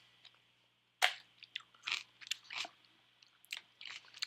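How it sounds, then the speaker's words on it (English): Someone eats peanut butter paired with kimchi, giving close, sharp bites and irregular crunchy chewing in quick bursts, broken by brief pauses, with no talking. "why the fuck is this asshole just eating a bunch of food?"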